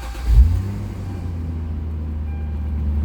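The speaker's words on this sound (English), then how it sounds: "Car starts right up, sounds great." A 1986 Toyota Supra Mk III with a 3-liter inline-6 dual overhead cam engine cranks and catches, then settles into a steady, close, low rumbling idle.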